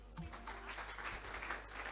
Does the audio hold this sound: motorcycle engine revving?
no